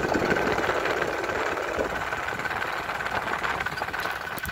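A Powertrac Euro 50 tractor engine runs steadily while pulling a new plough in a field, with a loud, continuous diesel chug and rattle close by and no talk.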